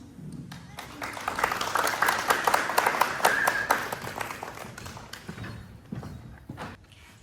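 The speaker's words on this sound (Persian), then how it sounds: "تا آمدنشان تشویقشان کنید" An audience at an indoor gathering applauds to welcome a speaker, with dense clapping that swells, peaks and then thins into scattered claps over several seconds.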